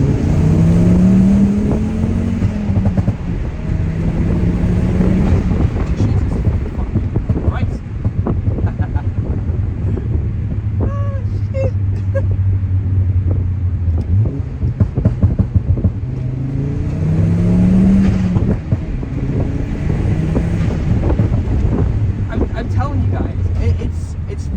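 Loud roaring engine of a Volvo C30 with a Stage 2+ tune, heard from inside the car, revving and surging through gears under hard acceleration, with heavy wind noise throughout.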